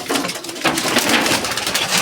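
Domestic pigeons coo steadily in a loft beside their nest of straw, a close, soft murmuring chorus that runs continuously with a faint rustle underneath.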